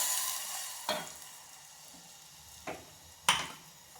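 A ground spice mixture for amti fries in a pan, a steady soft sizzle with three sharp stir or scrape clicks spaced across the short stretch, no talking.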